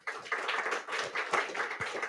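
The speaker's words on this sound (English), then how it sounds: "I hope you heard a lot of claps from the audience here" An audience at a Helsinki-Uusimaa launch event claps, a dense, steady patter of many hands heard close and continuous for a couple of seconds.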